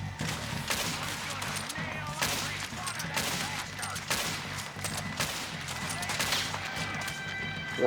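A Red Dead Redemption 2 gunfight during a train robbery, with repeated loud close shots cracking out in irregular bursts from several guns over the in-game background sound.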